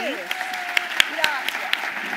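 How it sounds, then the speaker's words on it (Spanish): An audience at a university dialogue with writer Isabel Allende breaks into applause, a short burst of clapping with a few sharper individual claps standing out, while a voice speaks over it. "un aplauso para ti"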